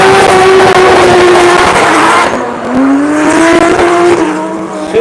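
Drift cars fight a twin battle at practice in Cyprus, and loud engines whine and rev close by as tires squeal and skid in long sustained howls.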